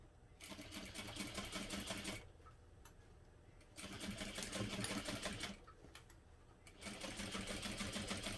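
Sewing machine stitching vinyl at a 4.5 stitch length, running in three steady bursts of rapid even needle clatter separated by short pauses.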